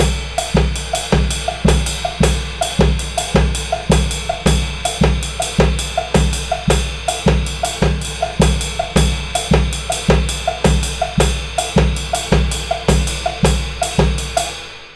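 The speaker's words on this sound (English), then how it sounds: "we're going to move our bass drum pattern 1/8 note over." A drum kit grooves in Afro-Cuban 12/8 with the bass drum pattern shifted an eighth note, a steady loud loop of evenly spaced hits with ringing cymbal over a thumping low drum, alone for fifteen seconds.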